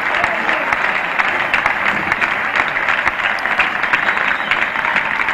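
A cricket ground crowd applauds a fine stroke that goes for four runs, producing a steady, bright patter of many hands clapping at a distance for several seconds.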